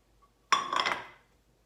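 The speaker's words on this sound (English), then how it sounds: "So my eggs have cooked. And I'm just putting them on my plate." Cooked eggs go onto a plate with a single sharp clink of utensil on dish, followed by a brief scraping rattle that fades quickly in a quiet room.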